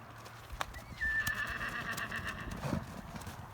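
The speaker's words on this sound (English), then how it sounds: "The horse that keeps talking in the background is Nika." A horse whinnies faintly in the distance, a high wavering call over soft outdoor noise and scattered hoof clops.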